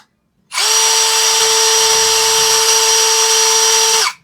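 A Tankmor cordless drill spins up at its second speed setting, a loud, steady high whine held for about three and a half seconds before cutting off.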